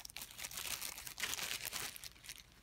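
Plastic sandwich bag crinkling and rustling as a mold test plate is slipped inside, a quiet, close and continuous crackle with irregular bursts and no talk.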